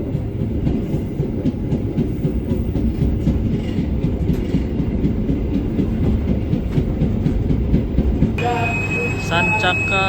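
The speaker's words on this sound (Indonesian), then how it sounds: "kereta api Sancaka Utara berangkat dari stasiun Lamongan" The Sancaka Utara train pulls out of Lamongan station in East Java with a loud, dense low rumble and rhythmic wheel clatter, ending in a brief bright ringing tone.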